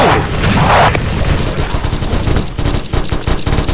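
Grenade explosions and gunfire from the video game SF Rush: a dense, loud barrage of booms and rapid shots running throughout, with a heavy blast early on and continued crackling fire after.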